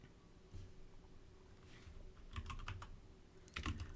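Quiet clicking on a computer keyboard while entering a command at a Windows command line, a few scattered soft keystrokes followed by two short clusters of faster taps.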